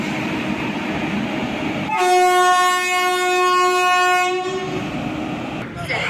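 A train horn blares loudly with a long, steady harmonic tone amid station rumble and background noise at Hyderabad Deccan railway station, then cuts off.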